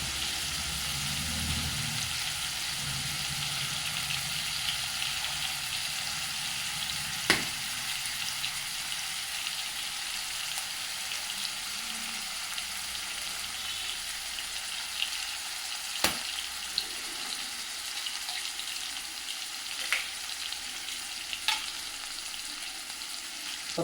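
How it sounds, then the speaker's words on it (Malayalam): Chopped onions fry for an egg curry in a pan, a soft steady sizzle with occasional stirring clicks and brief pops, no talking. "ഉള്ളി നല്ലപോലെ ഫ്രൈ ചെയ്യും"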